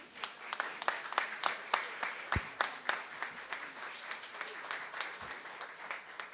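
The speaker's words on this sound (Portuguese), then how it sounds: "Gostaria de pedir uma salva de palmas para a Shelly aí." Audience clapping during a city council session, a steady round of applause from a modest crowd heard at a moderate distance.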